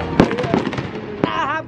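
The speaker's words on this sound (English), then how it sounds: "The fireworks!" New Year's Eve fireworks bursting in a few sharp cracks and bangs amid festive background noise and voices, with a whistling rise near the end.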